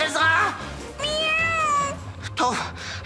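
A cartoon cat meows three times, loud and close, with long drawn-out wavering cries separated by short pauses.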